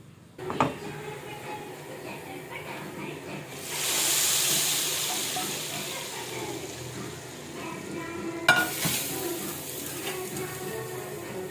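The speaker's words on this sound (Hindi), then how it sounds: "मैं जल्दी से तड़का लगा लेती हूँ।" Hot oil hisses and sizzles with spices for dal tadka in two bursts, the first long and steady, the second sharper, with faint clinks of a pan nearby.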